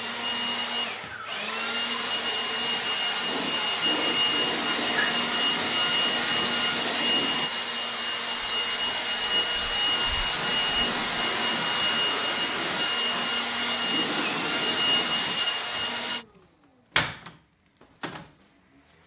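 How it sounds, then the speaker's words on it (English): Leaf blower roars steadily at close range, blasting loose debris out of the carpet-like fibers of a BedRug bedliner in a 2021 Ford F150 PowerBoost truck bed, then cuts off, followed by a few sharp knocks. "Let's try to see if I can just leaf blow some of this stuff out of this fibers"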